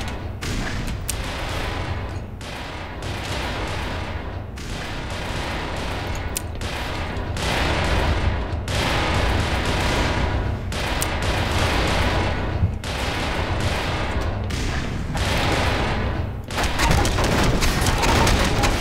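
Repeated booming blasts from grenades and gunfire in the shooter game Black Mesa, loud and dense throughout with a heavier burst near the end, and no talking.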